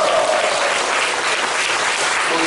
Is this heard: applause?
yes